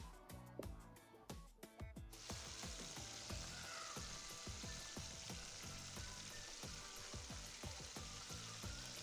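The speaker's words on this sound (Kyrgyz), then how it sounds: "салып, эки жагын кызарта кууруп алабыз." Chicken wings frying in hot oil left over from cooking potatoes give a loud, crackling sizzle that starts with sharp pops and settles into a steady close hiss.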